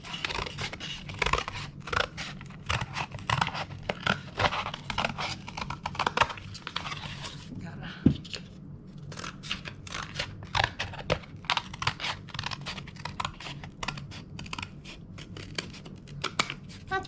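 Scissors snip through Amazon box cardboard to shape bunny ears, a rapid series of close, crisp cuts and crunches with a brief pause partway through.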